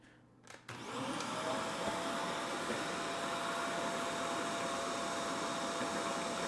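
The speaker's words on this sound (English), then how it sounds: "let's go ahead and plug this vacuum in and see what we can pull." A vacuum cleaner plugged into an Anker SOLIX F3800 Plus portable power station switches on after a couple of soft clicks and settles into a loud, steady whine with a constant airy hiss.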